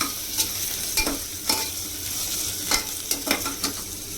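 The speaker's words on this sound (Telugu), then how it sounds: "బాగా మిక్స్ చేసుకోవాలి." A spoon stirs ginger garlic paste in a hot pan for Andhra-style gongura pulao, the repeated scraping strokes coming every half second or so over a steady frying sizzle, close up with no talking.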